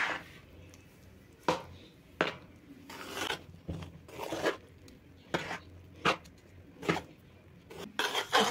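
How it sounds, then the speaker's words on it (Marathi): Bhajani flour dough for chakli being mixed by hand in a metal pot, soft rubbing and scraping strokes with occasional sharper knocks against the vessel, close and quiet with no voices. "आपण व्यवस्थित हे सगळं पीठ मिक्स करून घेतलेलं आहे"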